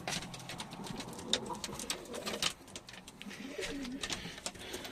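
Breeding pigeons coo inside a coop, their soft, repeated rolling calls overlapping at a moderate distance with faint flutters and chirps, fairly quiet overall.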